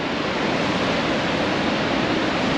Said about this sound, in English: This is the spillway below the dam here in Grand Lake.